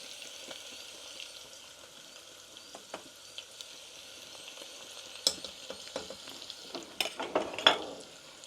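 Turmeric and spices are added to a hot frying pan, giving a soft sizzle under a spoon stirring and scraping against the metal, with clinks and taps that grow busier toward the end, heard close with no talking.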